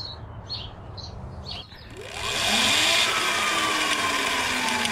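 Sur Ron electric dirt bike motor revved to full throttle with the rear wheel off the ground: after some faint chirps, a rising whine sweeps upward and settles into a loud, steady high-pitched drone that holds to the end.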